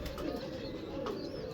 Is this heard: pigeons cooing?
yes